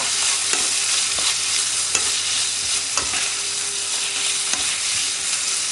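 Bacon frying in a pan crackles with a constant loud sizzle while a utensil stirs and scrapes it, giving occasional knocks against the pan, with no talking.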